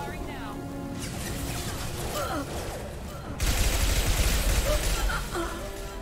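Gunfire in the video game Mass Effect 2, a sustained, noisy burst of shots that swells louder midway, heard under other game sounds and faint voices.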